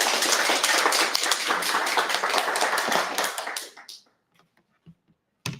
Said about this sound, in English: round of applause for Brandon